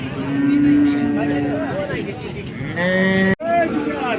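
Several cows moo in long, low calls over a busy crowd at the Modnimb cow market near Solapur, with a loud auctioneer-style voice calling prices throughout.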